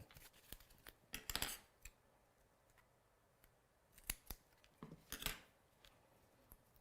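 Scissors trimming overhanging paper from a die-cut stamped card, heard as a few quiet, crisp snips in small clusters with soft pauses between cuts.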